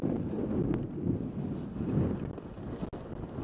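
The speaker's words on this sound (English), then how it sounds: "Now there's a little wind blowing right at me." Wind buffets the microphone on a ski slope at Upper Tamarack, with 12 degrees at the summit, making a steady low rumbling roar with gusty swells and no voices.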